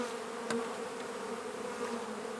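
Honey bees hum steadily around an open hive during a beekeeping class in Swanzey, New Hampshire, a close, even drone with one brief tap near the start.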